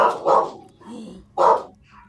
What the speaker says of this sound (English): Wild dogs roam the area. We hear their barking in the distance.